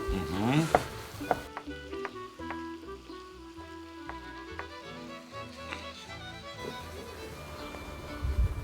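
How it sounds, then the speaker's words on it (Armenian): Peppers fry in a pan with a steady, close sizzle and crackle, broken by repeated knocks and scrapes of stirring, with a louder burst of activity near the end. "Միջև տապակվի բիբարը,"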